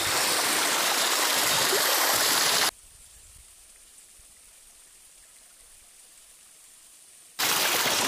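Loud rushing stream water fills the start, drops to near silence for several seconds, then the flowing water returns abruptly.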